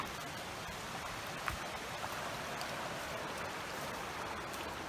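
Creek water flowing along a wilderness backpacking trail in light rain, a steady broadband rushing wash with occasional faint drips, constant and fairly close.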